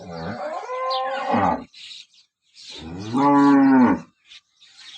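A dairy cow gives two long, strong moos close by, separated by a brief quiet gap, with faint background noise between calls.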